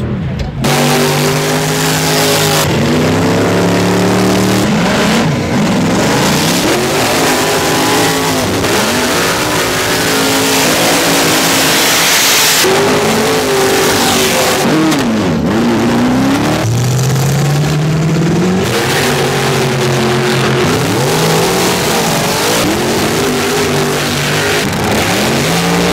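Dragster race cars at the Vichy Speed Final 2018 roar loudly down the drag strip, engines rising and falling in pitch as the cars accelerate, with continuous announcer talk over the noise.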